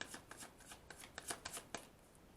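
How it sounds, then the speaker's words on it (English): A deck of tarot cards being shuffled by hand, a quiet, close riffle of soft rapid flicks and slaps repeating in an uneven rhythm for a couple of seconds. "Do one more shuffle."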